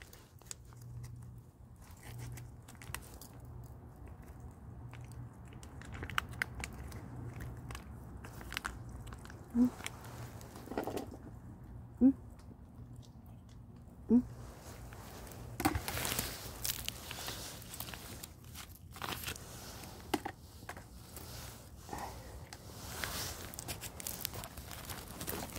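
A stray cat chews and bites at food at an outdoor feeding spot, giving soft, irregular crunching close by, with a few sharper clicks and some faint movement; nobody speaks.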